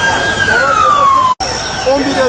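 An ambulance siren wails loud and close at the scene of an explosion in Van, Turkey. Its falling tone drops out for a moment, then resumes, with some voices in the background.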